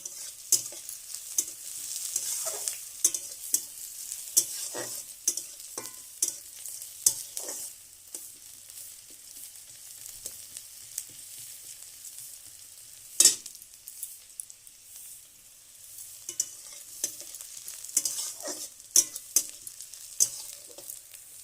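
Food frying in a pan is stirred repeatedly until light brown, a soft background sizzle punctuated by frequent scraping strokes, with a quieter spell midway before the stirring resumes.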